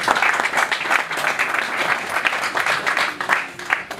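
An audience at an employment forum applauds, dense continuous clapping from many hands at moderate volume, uneven in texture and sustained throughout.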